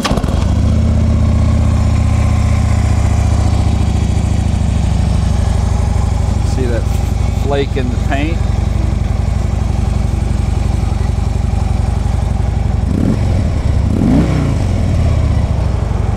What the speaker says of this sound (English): Turn the radio down, we'll fire it off.